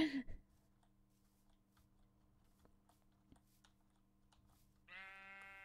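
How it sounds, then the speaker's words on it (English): Minecraft sheep giving a single short, wavering bleat near the end, after a quiet stretch of soft keyboard taps and clicks with a brief thump at the start. "Hello, sheep."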